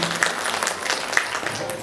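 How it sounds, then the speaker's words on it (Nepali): Audience applause at an awards ceremony in Nepal, a dense, steady patter of many clapping hands at moderate distance, with a voice briefly audible alongside. "यहाँलाई विशेष अतिथिको आसन ग्रहणको लागि एकचोटि जोरदार ताली बजाएर सम्मान गर्नुहोस्।"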